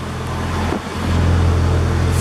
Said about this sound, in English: Fired up the car, fired right up